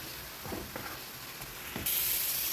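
Ginger paste masala sautéing with a splash of water, a soft steady sizzle with a few faint stirring scrapes, then a sudden bright hiss near the end.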